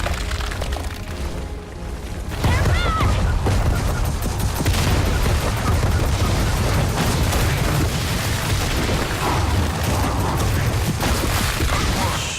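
Sustained heavy gunfire and booming explosions from the video game Gears of War 4 fill the whole stretch loudly and densely, with a brief quieter lull near the start.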